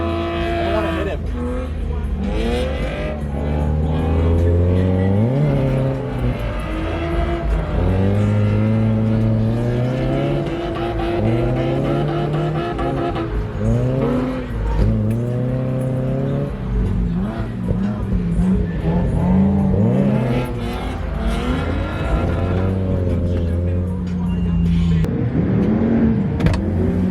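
Drift car lapping a track at a grassroots drift event, engine repeatedly revving up and down in loud swooping pulls with bouncing limiter-like wails, continuous and close throughout.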